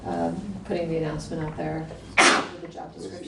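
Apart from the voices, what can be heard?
sneeze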